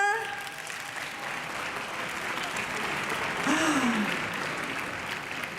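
Delegates at a European People's Party congress in Valencia keep up a continuous wash of applause in a large hall, rising slightly near the end, while a brief tonal sweep and scattered voices sit faintly underneath.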